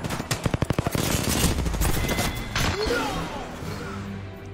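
Gunfire in Apex Legends: a quick, loud burst of rapid shots at the start, followed by scattered impacts and crashes as the fight continues, with a player shouting briefly over it.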